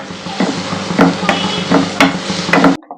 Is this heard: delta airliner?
no